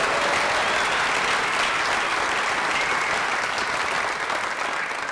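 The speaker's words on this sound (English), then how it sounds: "he deserves a big round of applause" Dense, sustained applause from a concert audience at a summer music festival orchestra concert, loud and even throughout with a broad hiss of many hands, fading slightly toward the end.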